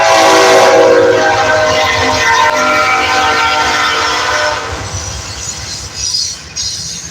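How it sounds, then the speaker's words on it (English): A passing train rumbles loudly with a blaring horn, the roar and tone holding strong before easing off and fading in the last few seconds, with no talking. "Can you believe there's another train this quick?"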